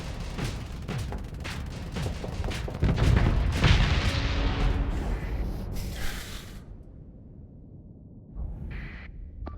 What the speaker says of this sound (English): Why must my ship keep exploding?